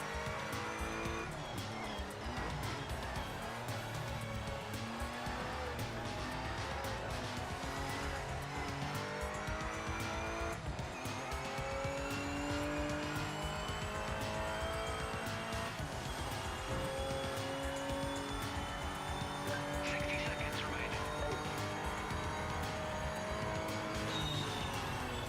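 Race car in a racing video game braking hard into a corner, tires squealing in long pitched skids over a loud, rising and falling engine roar that carries on without talk.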